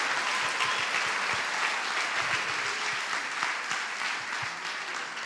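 Church congregation applauding during a sermon, a sustained burst of many hands clapping that fades slightly toward the end, with no talk over it.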